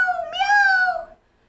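A single drawn-out meow voiced by a person imitating a cat, rising then falling in pitch, loud and close, lasting about a second before fading to silence.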